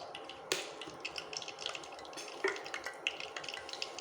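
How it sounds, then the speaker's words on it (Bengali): Radhuni spice seeds fry in hot oil while being stirred, making a soft, faint crackle. Several small clinks and scrapes from the stirring stand out above it. "রাঁধুনি ফোড়নটা দিয়ে একটু ভালো করে নেড়ে নেব।"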